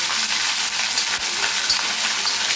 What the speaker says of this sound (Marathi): पहिलं आता अद्रक लसणाची पेस्ट तेलात टाकून घ्यायची.